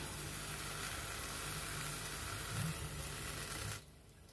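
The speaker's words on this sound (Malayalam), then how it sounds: "കട്ട് ചെയ്ത് വെച്ചേക്കുന്ന ഏത്തയ്ക്ക അങ്ങോട്ടിടും." Cut pieces of raw plantain fry in a pan with a little water, giving a loud, steady sizzle that cuts off abruptly near the end.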